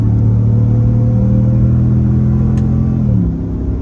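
Close, loud engine drone from a Ram 1500 Rebel GT truck with an 8-speed transmission as it accelerates, the steady pitch lifting with a shift near the end and no talking.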